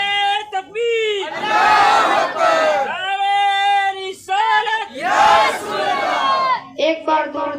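A crowd at a religious jalsa gathering in Jafarabad answers a takbir call with a loud, full-throated chant, swelling in two big surges close up, with a solo voice calling between them.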